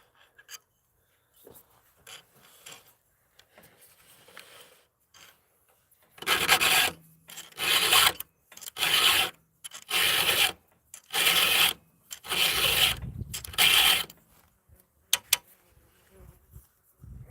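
A hand file rasps through a saw tooth gullet in a run of about eight distinct, evenly spaced strokes, each a close, harsh scrape, after a few quiet seconds.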